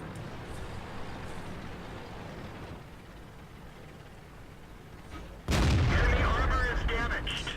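A tank cannon fires in the World of Tanks game, a sudden loud boom near the end cutting through quieter engine rumble and background hum, followed by a sustained crackling roar.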